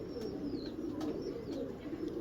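A female pigeon kept by a breeder coos softly in low, repeated throaty pulses, faint and close, with a few thin high chirps above and no talking.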